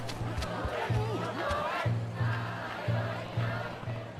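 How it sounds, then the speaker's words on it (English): A crowd murmurs and shouts in the video game Like A Dragon: Ishin, a dense steady din under repeating low game music, with a voice talking over it. "What's with this crowd?"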